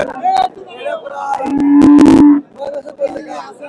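A single loud, drawn-out moo from a pregnant local dairy cow close by, surrounded by the chatter and noise of a busy crowd at a cattle market.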